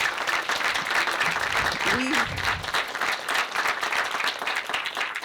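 Audience applause at a Black History Month program, a steady wash of clapping from a crowd that holds evenly throughout with a brief voice rising in the middle.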